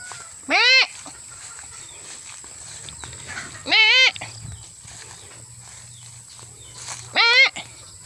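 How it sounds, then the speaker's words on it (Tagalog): A goat in a garden gives three loud, separate bleats spaced a few seconds apart, each a short wavering cry, with quiet outdoor background between. "Na yung kambing ko."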